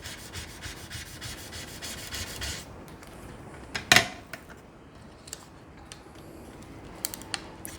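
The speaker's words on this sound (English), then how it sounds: "get our brayer, and just rub that vinyl onto the transfer tape." A rubber brayer rolls and rubs over adhesive craft vinyl on transfer tape while a Valentine's Day heart sign is made, giving a steady close scraping rub with one sharp louder scrape near the middle and soft ticks after.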